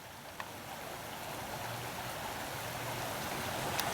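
Water flowing in Frog Creek, a steady broadband rush and trickle heard at night with no voices, continuous and even throughout, with a faint tick near the start and another near the end.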